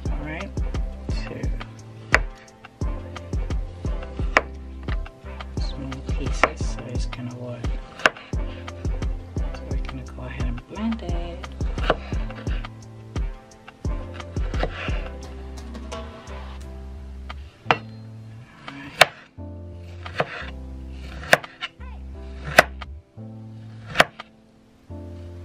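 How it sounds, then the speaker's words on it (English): A knife chops kiwi on a cutting board, sharp irregular knocks that grow sparser and more distinct toward the end, with a person talking underneath. "let's go ahead and then cut these into smaller pieces"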